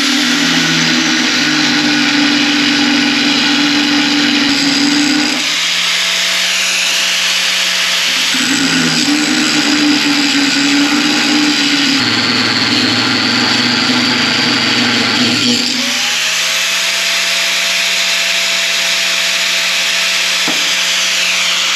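An angle grinder bites into a 1 inch thick steel crowbar with a loud, sustained high whine, dipping in pitch under load, then easing off and spinning back up in repeated passes over about twenty seconds, with no voices.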